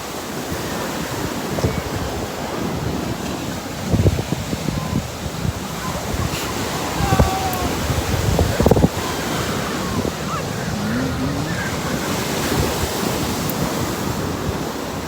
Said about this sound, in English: Angel Garden's waves are the perfect frequency